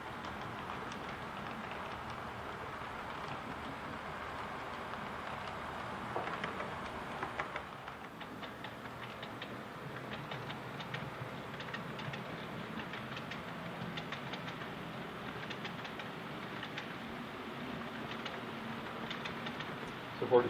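A CNS freight train led by red and gray SD40 locomotives rolls steadily past through the Windsor industrial area, a continuous distant rumble and clatter of wheels without clear horn blasts.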